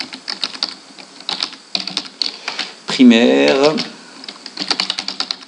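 Fingers type rapid, uneven bursts of key clicks on a computer keyboard, heard close under someone speaking French. A short stretch of continuous speech interrupts the clicking midway.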